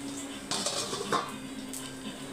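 A spoon scraping and clinking against a metal pot while mixing tomato rice with egg before leaving it on low heat, a few distinct metallic knocks over a low steady hum.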